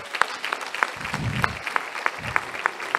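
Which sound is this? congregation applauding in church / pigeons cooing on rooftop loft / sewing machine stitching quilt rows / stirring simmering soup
congregation applauding in church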